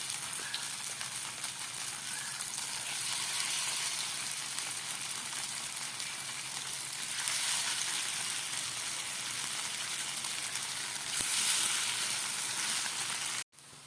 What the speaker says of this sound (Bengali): এই তেলের মধ্যে আমি এই বানিয়ে রাখা এগুলো ভেজে নিচ্ছি